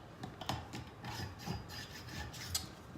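A Stihl MS-460 chainsaw bar is scraped clean of oily debris in short, rasping strokes, close and fairly quiet, with no voices.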